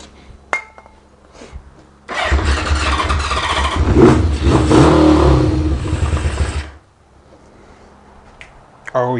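After a few faint clicks, an engine sputters to life and revs loudly for several seconds, then cuts off abruptly.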